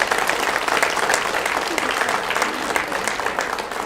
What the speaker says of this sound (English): a round of applause for those four